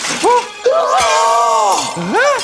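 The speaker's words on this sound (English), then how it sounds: "Wolf's teeth shattered and crumbled on the floor." A cartoonish crack and crumble as a wolf's teeth shatter on a brick-stuffed fake lamb in a children's story: a sharp break followed by sliding, ringing tones, brief and close.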